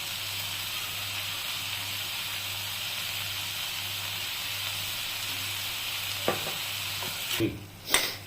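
Chopped tomatoes with salt sauté in a pan for stuffed cheese masala pav, holding a steady bubbling sizzle over a low hum, then a few spatula scrapes and knocks near the end.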